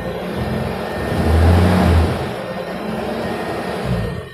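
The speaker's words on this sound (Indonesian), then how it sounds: "Kita gas lagi coba yuk." Toyota Land Cruiser HardTop engine revving up, a loud swelling rev that peaks and then settles back to a steady rumbling idle, close by with no talk.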